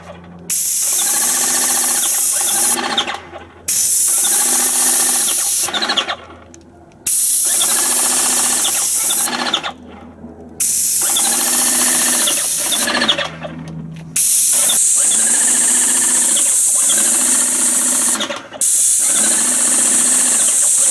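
An airless paint sprayer blasts paint in long, loud bursts of steady hiss, with short pauses between passes and a motor hum running underneath throughout.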